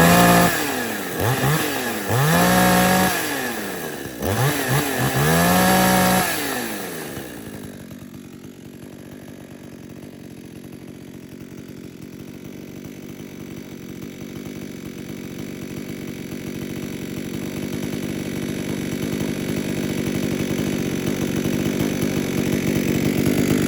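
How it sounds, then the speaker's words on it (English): A chainsaw engine revs a few times in short bursts, then settles into a steady, loud idle that runs on for the rest of the stretch, slightly raised to keep it going, with nobody speaking. "start this up and show you how it does"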